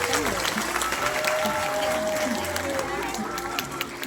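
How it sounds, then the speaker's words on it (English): Audience applause at a live science show in Yeovil, UK, steady clapping from a crowd blended with tonal background sounds and some voices underneath. "Let's give a big round of applause for mine."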